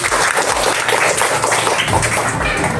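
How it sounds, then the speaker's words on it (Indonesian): A primary school class of grade 5 students gives a burst of dense, loud applause that stays steady and fills the whole short stretch. "Oke, tepuk tangan ke semua."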